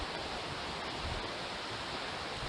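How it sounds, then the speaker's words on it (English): Swollen Welsh mountain river, the Twrch, rushing with heavy runoff from the mountain: a steady, dense broadband roar of water, close and continuous, with no voices over it. "the Twrch is rather swollen today. A lot of water coming down off the mountain"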